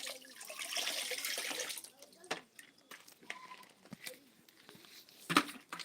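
Water runs and splashes from a tap while the water over settling fermented cassava for fufu is changed; a steady flow for about two seconds gives way to scattered knocks and drips.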